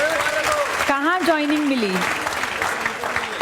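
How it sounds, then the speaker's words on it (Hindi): Students in a classroom applaud in a steady wash of clapping while a voice speaks over it near the start and a few words carry on through the rest. "जोरदार तालियां बजाओ।"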